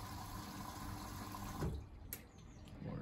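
Baumatic washer dryer drawing in water on a cotton wash, a steady faint rush of filling water that thins out midway, with a few small clicks and knocks, no voices.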